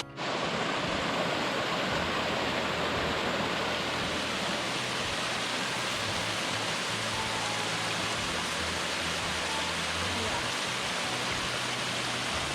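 Steady rushing roar of a glacier-fed waterfall stream on a mountain hike trail, loud and continuous broadband water noise filling the whole stretch, with no talk over it.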